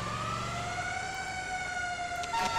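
A Federal Q-style fire truck siren mounted on a GMC Topkick C450 ambulance in GTA 5 wails loudly and steadily in a long rising-falling tone, with a brief higher blip near the end.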